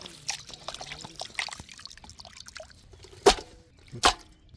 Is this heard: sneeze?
no